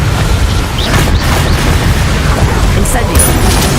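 Confringo explosive spell in Hogwarts Legacy, a loud continuous booming rumble of blasts, with a voice calling out over the noise.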